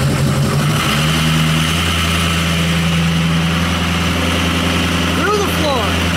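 Ford Crew Cab with a 6.0 Powerstroke diesel holding a steady, loud idle-to-raised rumble throughout, the low drone climbing slightly early on without a strong rev, heard close up and continuous.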